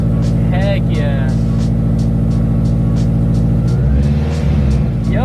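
Supercharged Toyota FRS engine running smoothly after a coil pack fix, a loud steady close-up idle hum with a brief swell near the end, while people talk over it.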